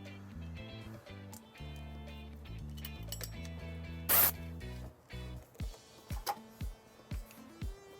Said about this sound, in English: we're just going to place a zip tie right here.